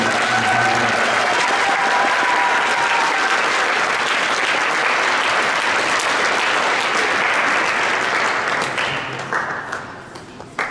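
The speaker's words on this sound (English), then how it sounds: "If we can give them a round of applause for their innovation." Sustained applause from an audience at a junior and senior science fair awards ceremony, a dense, even wash of clapping lasting about ten seconds before thinning and fading at the end.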